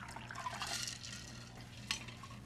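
A stirred ice wine cocktail poured into a glass, a faint, soft trickle of liquid with a light clink near the end, quiet and close, with no talking.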